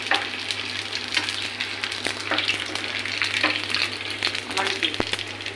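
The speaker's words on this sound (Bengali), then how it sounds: "তেলে ভাজলে এটা ফুচকা হয়ে যাবে?" Fuchka shells frying in hot oil, a loud close bubbling sizzle with frequent crackles and stirring scrapes, one sharp knock near the end.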